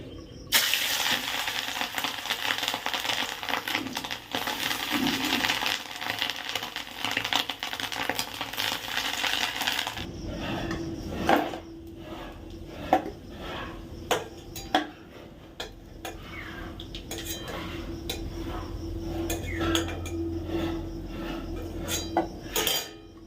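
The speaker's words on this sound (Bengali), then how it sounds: "এবার এর মধ্যে বড়াগুলো দিয়ে দিই" Lentil fritters (bora) frying in a wok give a loud, steady sizzle for the first half, which then drops to a quieter background as utensils clatter and clink in sharp, irregular knocks nearby.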